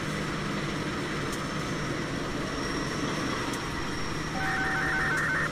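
Train departing in the Trainz A New Era rail simulator on a Wonokromo to Sidoarjo run, a steady low rumble of rolling stock with a faint whine and a brief tone near the end, with no talk.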